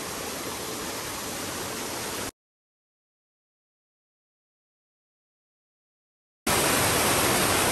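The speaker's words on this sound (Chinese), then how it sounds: "这滑瀑也太漂亮了" Water pouring down a sloping slide waterfall on a mountain stream makes a loud, steady, broadband rush, heard close up. It cuts out completely for about four seconds, then returns just as strongly.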